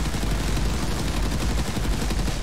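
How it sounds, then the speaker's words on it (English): Browning BAR automatic rifle in a video game, a loud sustained burst of rapid automatic fire with dense, evenly spaced shots running unbroken for a couple of seconds. "Number 3 is going to give you the Browning BAR."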